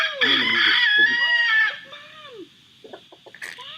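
A rooster gives one long, loud crow that rises and falls, followed by a few short, quieter clucks and chicken noises.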